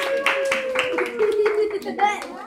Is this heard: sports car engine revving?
no